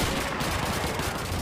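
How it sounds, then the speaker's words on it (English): Continuous din of gunfire in the World War II shooter Call of Duty 2, dense overlapping shots forming a steady loud battle wash with no distinct single report standing out. "That was a shot."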